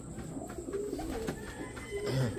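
Homing pigeons arriving back at a loft coo in soft, repeated low throaty calls close by, with light outdoor background noise.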